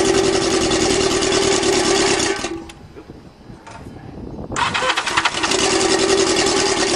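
A motorcycle-powered dune buggy engine running loud and steady, briefly dropping off, then starting again and settling back into a buzzy, tinny idle, close up with no talk over it.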